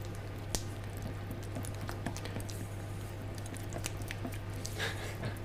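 A spoon works coconut oil into a thick chocolate peanut truffle mixture, making soft, sticky squishes and small irregular clicks at a close, quiet level.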